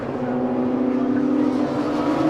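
Race car engine at Silverstone's Stowe Corner, a loud, sustained steady drone with strong harmonic tone, close and holding pitch as it passes through the bend.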